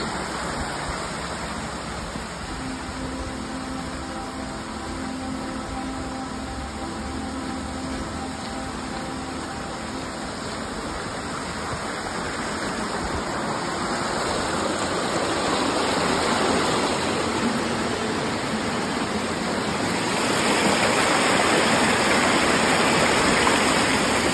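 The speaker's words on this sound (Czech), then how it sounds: "A tady už máme nádherný šumavský potok." A mountain stream in the Šumava forest rushes steadily with a dense, continuous hiss of flowing water, close by and growing slightly louder over time, with no voices heard.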